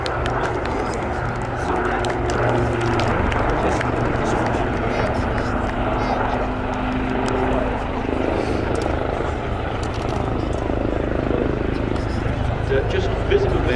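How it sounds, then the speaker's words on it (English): Royal Navy Leonardo Wildcat HMA2 helicopters run in at an air show, a steady rotor and engine roar at moderate distance beneath loud commentary. "Running in straight in front of you, the Leonardo Wildcat HMA2s of the Royal Navy Helicopter Display Team for 2024 Black Cats."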